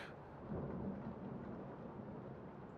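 Steady rain falling during a storm heard from a porch, with a low rolling rumble of thunder swelling early on, soft and distant, no voices.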